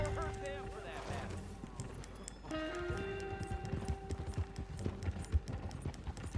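Rhythmic hoof clip-clops from a horse trotting in Red Dead Redemption 2 play under music and a talking voice, steady and fairly close.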